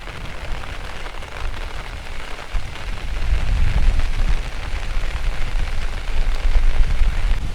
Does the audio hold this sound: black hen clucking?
no